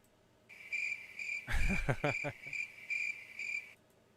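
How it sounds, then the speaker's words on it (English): Cricket chirping plays as a sound effect during an online ham radio net, a steady run of evenly pulsed chirps with someone talking briefly over the middle of it. "Now we need the cricket sound."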